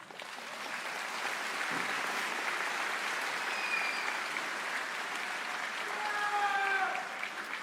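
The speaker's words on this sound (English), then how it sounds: "Please welcome them by giving them a round of applause." A high school graduation crowd applauds the board members and superintendent, with broad, even clapping from a large gathering that holds steady throughout and is heard at moderate distance with faint cheers and whistles.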